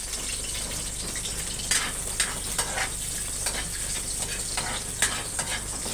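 Garlic sautéing in a pan for Filipino pork adobo gives a continuous close sizzle, with occasional sharp scrapes and clicks of stirring on the pan and no talk.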